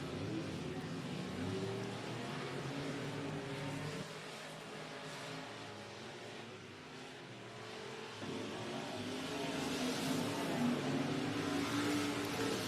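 Race cars circle a wet, heavy dirt speedway track during opening weekend racing, engines droning loudly and continuously, swelling as the pack comes around, with faint commentary talk underneath.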